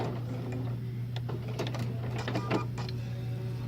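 A Bernina sewing machine running in reverse while stitching a zipper bag, a steady mechanical hum with rapid rattling stitch clicks, close and continuous for a few seconds.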